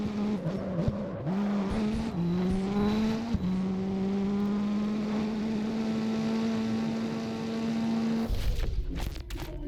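A Nissan 240SX race car in a street racing video game, its engine holding a loud sustained high rev with brief gear-change dips and tire noise, ending in a burst of skidding.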